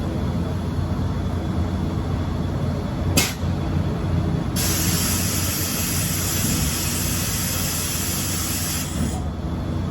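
Compressed air releases loudly from a disconnected trailer air hose on a frac sand hauling truck in a West Texas oilfield: a sharp pop followed by a sustained hiss over a steady idling engine rumble.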